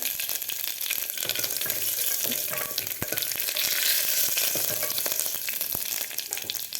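Mustard seeds, cumin and curry leaves sizzle in hot oil, a dense, loud, steady crackle with scattered sharp pops throughout, with no one speaking.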